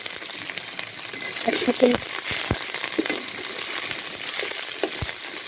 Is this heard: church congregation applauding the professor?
no